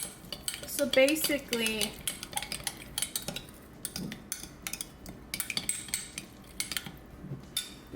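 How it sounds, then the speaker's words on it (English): A utensil stirs broccoli with pink Himalayan salt in a bowl, making rapid clinks and scrapes against the sides; the stirring is loud at first, then turns into brisk, irregular taps, with a brief spoken phrase early on. "I'm going to give that a good stir."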